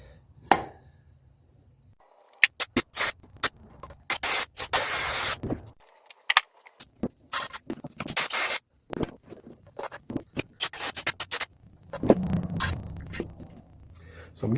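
A rough, pitted engine valve from a $150 350 engine being cleaned, with bursts of harsh scraping and brushing that come in irregular clusters, some loud and close, separated by short quiet gaps.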